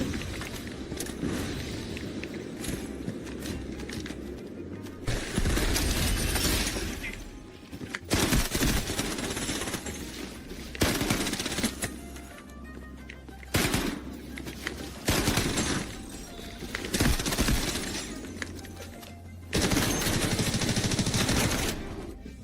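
Rapid bursts of gunfire in the video game Delta Force, loud and repeated in clusters with short pauses, some shots booming heavily, no talking.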